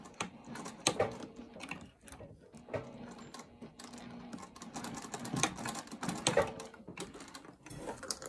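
Sewing machine stitching a quilted crossbody bag diagonally from a corner, a run of rapid mechanical whirring bursts with sharp clicks and brief pauses between stitching runs, close and moderately loud.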